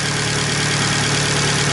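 A 2012 Fiat 500 Abarth engine idles steadily while warming up, a constant close hum with a low, even rumble and no voices.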